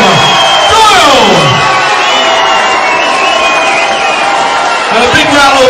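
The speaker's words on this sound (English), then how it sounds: "And a big round of applause" Loud, sustained crowd cheering and shouting at a boxing event after the decision is announced, a dense roar that swells and holds throughout, with whoops rising above it and a voice over the top.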